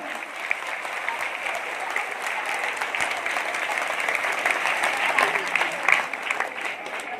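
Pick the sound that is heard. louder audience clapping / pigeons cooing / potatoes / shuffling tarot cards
louder audience clapping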